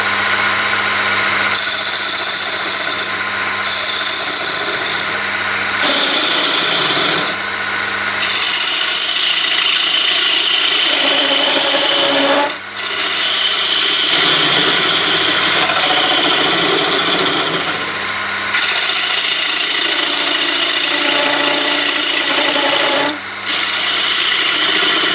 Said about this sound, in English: remove that nib in the middle, so I'll make sure that my gouge is going to cut at centre height